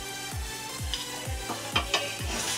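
Basanti pulao, a sweet yellow rice dish, stirred in a pan: a run of rhythmic scraping strokes, about one every half second, close and clear over a soft sizzle.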